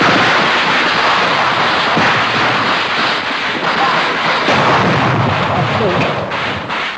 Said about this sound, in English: Another barrage begins.